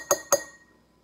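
Two quick, bright taps on an empty glass mason jar, each ringing with a thin high tone that fades fast.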